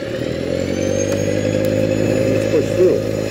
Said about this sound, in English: Now I'm going to put the auger on high